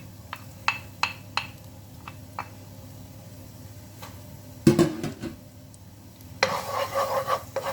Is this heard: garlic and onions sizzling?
yes